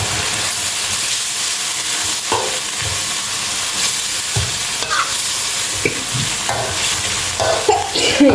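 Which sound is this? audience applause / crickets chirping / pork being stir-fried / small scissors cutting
pork being stir-fried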